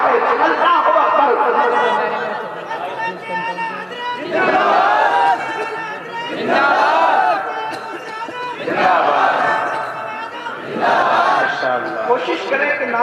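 Crowd at a religious gathering shouting slogans in loud rhythmic waves, several surging bursts of massed voices rising and falling over about thirteen seconds.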